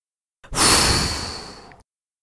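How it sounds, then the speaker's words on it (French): A child's hard exhalation blown forcefully through the mouth, a single long breathy rush that swells quickly and fades over about a second and a half, close and clear with no talk. "Et puis tu souffles très fort avec la bouche."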